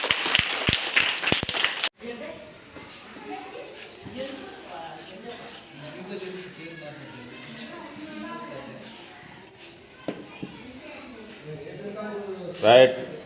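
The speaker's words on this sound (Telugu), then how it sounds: "రైట్, క్లాప్స్ కొట్టండి." Children clap at a parent-teacher meeting in a primary school in Kalluru, Khammam, in a dense burst lasting about two seconds. Talking follows, with a faint scuffle of movement.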